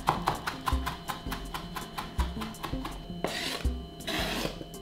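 Knife finely mincing fresh dill on a board, a run of quick rhythmic chops and rasping scrapes, close and clear with no talking.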